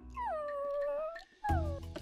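A dog in an anime whimpers and howls in two close, loud, high-pitched wavering cries with a brief pause between them and no voices.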